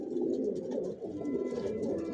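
Racing pigeons coo in a breeding loft, a dense overlapping chorus of soft, low throaty calls from many birds close by, continuous throughout without talk.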